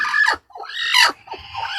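Native desi chickens on a small integrated farm with quail, giving a few loud, close squawking clucks in short rising bursts with brief gaps between them.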